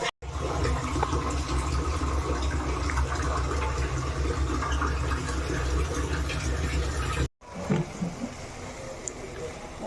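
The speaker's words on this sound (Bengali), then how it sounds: "এবার একটু জল দেব," Water pours steadily into a pan of curry, a continuous loud gushing that runs for several seconds, then cuts off abruptly and leaves quieter kitchen noise.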